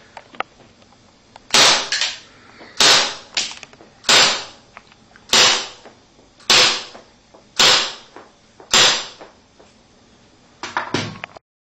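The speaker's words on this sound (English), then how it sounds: "Tokyo Marui, Glock 26 GBB, 15-round magazine, 7-shot string, TSD green gas." A Tokyo Marui Glock 26 gas blowback pistol on green gas fires seven sharp, loud, evenly spaced shots with roughly a second between each, followed by a brief clatter at the end.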